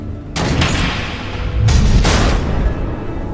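Missile explosions in the Batman: The Enemy Within video game: two heavy booming blasts, each with a sharp onset and a rumbling tail, the second landing about a second and a half after the first.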